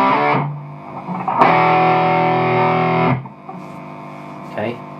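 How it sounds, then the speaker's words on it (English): A loud, harsh buzzing hum from an electric guitar rig with a distortion pedal on, sustained for a few seconds, cutting off abruptly, then a brief softer burst at the end. "As soon as I stick the distortion pedal on,"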